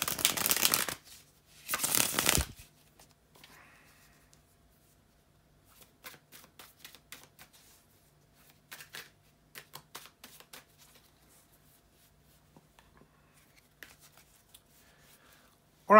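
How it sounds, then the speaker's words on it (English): Tarot cards being shuffled: two loud bursts of riffling at the start, then softer intermittent card taps and slides in a quiet room. "bear with me a second here, guys, to shuffle the tarot cards"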